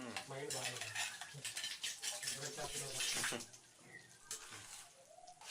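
Water splashes and gurgles into a mixer jar alongside clinking of kitchenware while making peanut coconut chutney, close and fairly loud, then tapers off.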